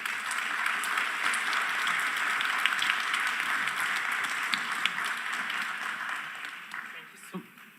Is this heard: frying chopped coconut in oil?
no